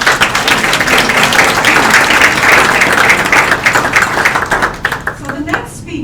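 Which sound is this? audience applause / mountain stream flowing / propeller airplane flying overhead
audience applause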